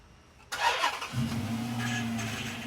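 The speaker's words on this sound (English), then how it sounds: "All right, Zane, fire this thing up." A cheap Hemi V8 from a budget Magnum build cranks briefly and then catches, settling into a steady, rumbling idle close by, alone without talk.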